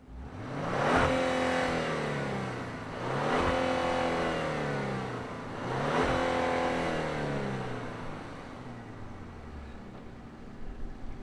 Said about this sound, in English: let's fire up this engine and hear what it sounds like.